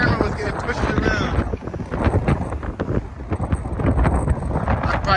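Strong wind buffets a microphone on the Benjamin Franklin Bridge walkway in Philadelphia. The gusting rumble is loud and continuous, with an indistinct voice now and then.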